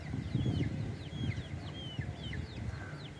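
Hens with their chicks forage in grass, soft low clucks running throughout beneath a string of thin, high chick peeps, all fairly faint.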